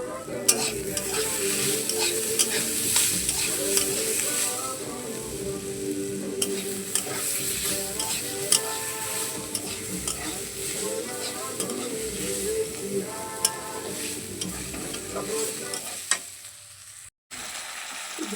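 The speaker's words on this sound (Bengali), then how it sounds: "চলে এসছি এখন মাংস কষাতে" Chicken fries with spices in a pan and is stirred steadily, a continuous close sizzle with repeated scraping strokes over about eighteen seconds and no one talking.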